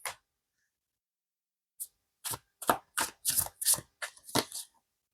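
Tarot cards being shuffled and drawn, heard up close after a stretch of silence as a quick run of crisp riffling snaps and flicks, with no talk.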